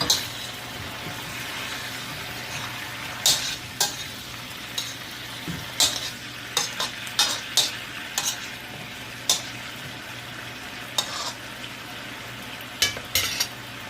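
Adobo chicken wings with potatoes sizzle steadily in a pan while a utensil stirs and scrapes, giving sharp clicks every second or so over the constant frying hiss.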